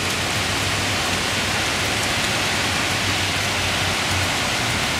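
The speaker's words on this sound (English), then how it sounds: "It is raining just beautifully." Steady, heavy rain falls outdoors in Kingston, Jamaica, a dense, even hiss that stays loud and unbroken throughout with no one talking.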